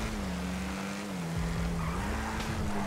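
An Ocelot Jaguar sports car in the video game GTA V driving fast, a steady droning engine tone that dips and rises with gear and throttle changes, with tire noise, continuous and close.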